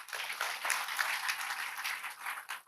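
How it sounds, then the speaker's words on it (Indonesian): A church congregation breaks into applause during a sermon, a broad even patter of many clapping hands that stays fairly soft and slightly distant, holding steady throughout with no talk over it. "Tepuk tangan buat dia"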